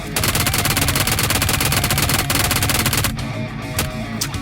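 Rapid automatic gunfire in PUBG Mobile 3.2.0, a fast continuous burst of loud, close shots that breaks off into a few scattered rounds.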